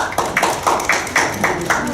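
A small audience at a magic show claps in a sparse, loose rhythm of about seven distinct bursts, fairly close and fairly loud.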